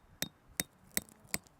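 A hammer strikes tent stakes into frozen ground during a winter camp in Algonquin Park: four evenly spaced, sharp metallic knocks, faint and fairly close, with no voices.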